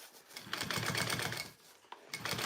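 A sewing machine runs in quick mechanical bursts while sewing the ending stitch on a bowler bag with binding, stopping briefly near the middle and then starting up again, loud and close.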